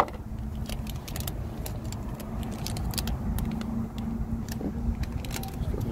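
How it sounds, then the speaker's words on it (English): Plastic packaging crinkles and rattles as LED turn and brake lights for a 2012 RAM 3500 dually are unpacked, with repeated short rustles and clicks over a steady low hum. "Let's go ahead and unpack our LED turn brake lights."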